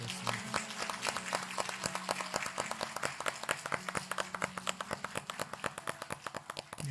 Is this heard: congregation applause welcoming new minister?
yes